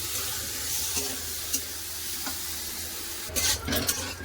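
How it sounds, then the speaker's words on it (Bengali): Oil sizzles steadily in a pan while a utensil scrapes and stirs chili and onion paste, with a few sharp clinks and a louder scrape near the end. "লঙ্কা বাটা পেঁয়াজ বাটা দিয়ে দিয়েছি একটু নেড়ে টেড়ে লাগিয়ে নেবো"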